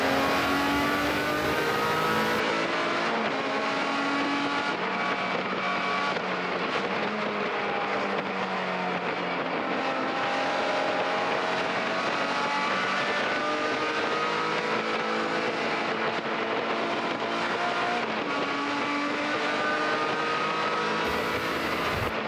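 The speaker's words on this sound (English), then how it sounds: "We take a ride on board for the first lap with Jared Carey inside the Nissan 350Z, watching the start of the race" A Nissan 350Z race car, heard from onboard during the first lap after a circuit race start at CARCO.com.au Raceway, holds a loud, steady engine roar throughout with shifting pitch as it accelerates through the gears.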